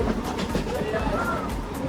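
A moving local train heading toward Virar in Palghar, heard from inside: a steady low rumble and rattle runs throughout, with a murmur of passenger chatter in the background.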